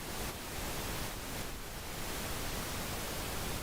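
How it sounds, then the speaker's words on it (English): Steady, broadband pink noise hisses continuously at an even level for the whole stretch, with no other sounds. "so we got our pink noise on master"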